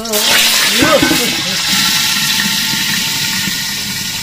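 Steady hiss and crackle of smoked fish (tinapa) frying in a pan, with a voice speaking briefly over it near the start.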